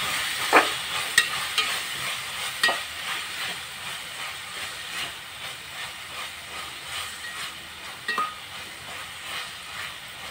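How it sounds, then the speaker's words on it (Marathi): Tomatoes sautéing in a pan for spicy mhaklyachi chutney, a steady soft sizzle and hiss with occasional clicks and scrapes of stirring, no voices. "टोमॅटो परतून झालेला आहे."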